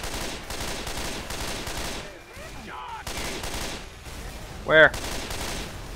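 Rapid bursts of gunfire in the zombie shooter Left 4 Dead 2, crackling repeatedly across the clip with a short gap, while players talk over the action.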